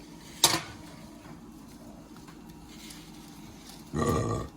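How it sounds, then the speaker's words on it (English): A person burps after eating pizza in a quiet indoor room, with a short sharp sound near the start and a longer, fuller belch near the end. "Pizza burp."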